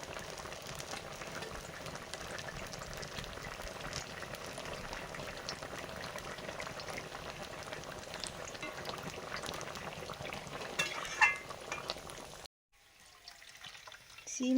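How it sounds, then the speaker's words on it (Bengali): Fish curry gravy with potato and eggplant bubbling in a pot, a steady close boiling hiss and burble that cuts off abruptly near the end, leaving faint clatter. "ঝোলে মাছ দিয়ে দিচ্ছি"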